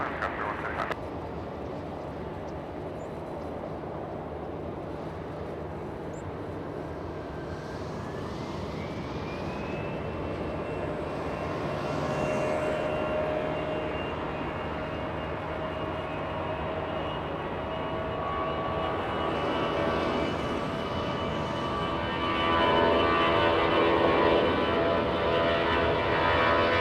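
A jet airliner takes off from runway 24 left at LAX, a broad engine roar that swells gradually as thrust builds, with a rising whine over it and distant airport noise beneath.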